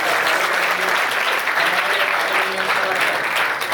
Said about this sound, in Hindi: मैं चाहता हूं एक बार जोरदार तालियां